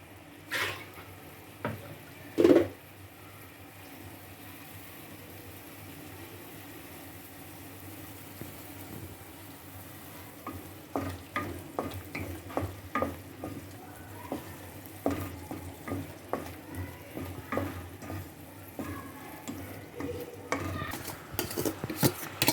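Bakoula greens with lemon, chermoula and oil cooking in a pan, a faint steady hiss beneath repeated clinks and scrapes of a utensil stirring, with one louder knock near the start.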